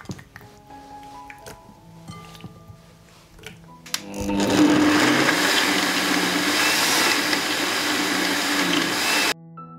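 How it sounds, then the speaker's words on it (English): A blender whirs loudly and steadily for several seconds, grinding plums with a dense rough roar, after some quieter clinks and handling noises, then cuts off. "I will grind the rest of the plums in a blender"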